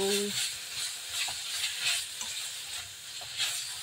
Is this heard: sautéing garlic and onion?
yes